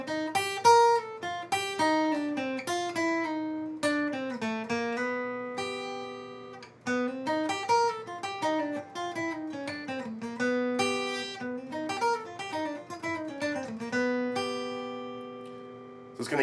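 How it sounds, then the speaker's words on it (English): A guitar plays a lick outlining an F dominant chord that resolves to G, clean single notes in a slow melodic line, close and moderately quiet, with no talking over it. "here is a lick that you can play outlining an F dominant chord going back into G"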